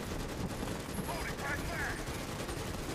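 Gunfire from the sci-fi shooter Starship Troopers: Extermination on hard mode, heard as continuous rapid bursts and crackling shots blended with the game's background noise, steady and moderately loud throughout.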